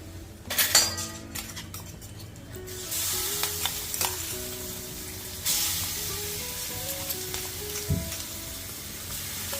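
Asafoetida, curry leaves, turmeric and a ground paste fry in a pan for vada pav, a bright sizzle marked by metal utensil clinks and stirring scrapes, close and fairly quiet.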